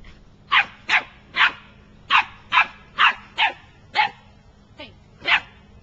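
A dog barks ten times in sharp, evenly spaced yaps, loud and close, with a faint low hum underneath and no talking.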